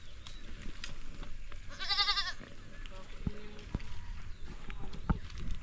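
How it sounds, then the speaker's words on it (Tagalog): Goats on a mountain farm bleat faintly, with one clear wavering bleat among rustling and footsteps, and people talk quietly nearby. "Ang daming kambing."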